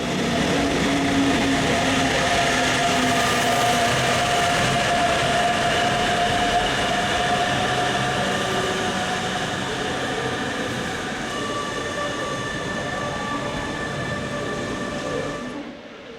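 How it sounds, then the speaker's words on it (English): A Class 146 electric locomotive-hauled regional train on the Bremen–Hannover line rolls past loudly, a steady rumble of wheels on track with sustained tonal whine and faint squeal, fading slightly near the end. "Regional use Class 146 electrics on the regular hourly services between here and Osnabrück"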